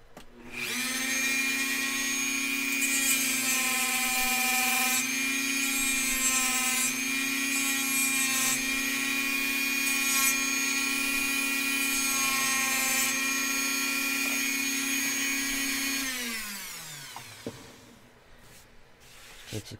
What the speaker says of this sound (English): let's just go ahead and quickly Dremel down the little sprue